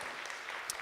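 Faint, distant applause from a church youth congregation for an engaged couple, soft and continuous with a brief sharper clap near the end.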